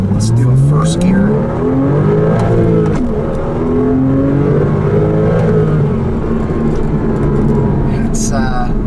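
A naturally aspirated 3.4-liter flat-six mid-engine car accelerates hard through rising gear sweeps, a loud close engine with shifts between pulls, while a person talks over it.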